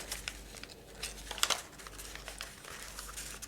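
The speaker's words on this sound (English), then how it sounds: "fold the corner" Paper crinkles and creases as an origami star box module's corner is folded, giving soft rustling with a sharper crackle midway, close and quiet with no talking.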